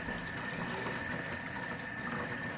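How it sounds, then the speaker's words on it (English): Cold tap water runs steadily into a sink while chitterlings are rinsed with a little vinegar, a continuous, close, even hiss and gush with no talking. "Rinse them 5 times in some cold water"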